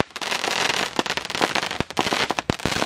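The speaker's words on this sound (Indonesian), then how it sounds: "Oh, pesta kembang api." A dense barrage of small firecrackers and a mini cake firework cluster go off, rapid sharp cracks and pops tumbling over one another in an irregular, loud crackling stream.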